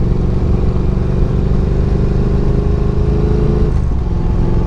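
Triumph Daytona 660 motorcycle engine droning steadily at speed during a group test ride, loud and continuous with a sustained harmonic hum that dips in pitch near the end as the rider shifts or eases off.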